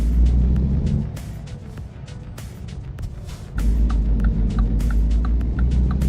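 Truck engine in American Truck Simulator running around 2,000 RPM, a steady low rumbling drone that dips quieter for a few seconds then swells back, with sharp clicking ticks scattered throughout.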